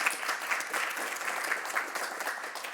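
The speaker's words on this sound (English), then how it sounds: "Let's give them a round of applause." An online project meeting audience applauding its tech speakers, a dense, steady clapping that lasts the whole stretch at an even level, with no voices over it.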